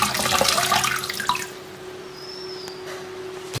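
Tap water runs loudly while cleaning under a gas stove in a kitchen, splashing hard for about a second and a half, then cutting off and leaving faint drips and a quiet hum.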